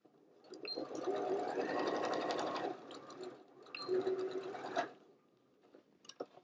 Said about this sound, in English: on the lining side, I'm going to sew a slightly bigger seam allowance